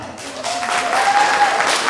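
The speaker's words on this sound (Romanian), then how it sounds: "Aplauze" Audience applause at a diploma and oath-taking ceremony of a postsecondary medical school, a steady, dense wash of many hands clapping close by, with a faint thin tone running through the middle.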